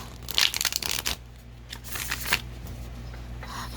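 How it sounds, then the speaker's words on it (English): A tarot card deck being shuffled by hand: quick papery riffles and crinkly rustles come in a few bursts, close and fairly loud, then trail off into softer handling noise. "I'm going to shuffle it another way for a moment and see if that helps get any energy going."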